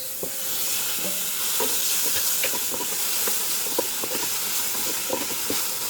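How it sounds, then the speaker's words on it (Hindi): Tomatoes go into a frying pan for a stovetop pizza topping, bringing a soft steady sizzle and steam hiss with light stirring taps and scrapes, moderately quiet and close. "now I'm going to add the tomatoes"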